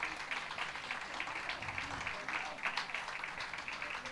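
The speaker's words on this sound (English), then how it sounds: "Please clap for her, ladies and gentlemen." An audience at an awards ceremony applauds a 78-year-old honoree, a steady wash of many hands clapping that sounds somewhat distant and continues evenly throughout.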